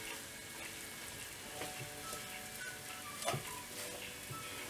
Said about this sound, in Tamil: ஆட் பண்ணிட்டு இந்த எண்ணெயில இத நல்லா ஃப்ரை பண்ணனும்